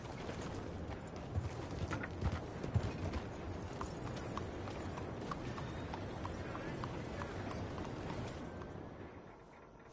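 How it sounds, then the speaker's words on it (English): Horse hooves in the video game Red Dead Redemption II, a steady rhythmic clip-clop of a riding horse moving along, moderately loud, with voices talking underneath. "Your horse is looking real skinny."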